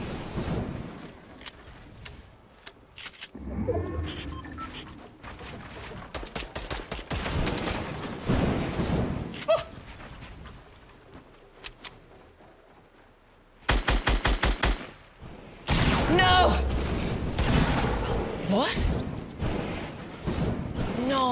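Assault rifle fire in a video game, bursts of rapid automatic shots in clusters among other game noise, with a player talking over parts of it.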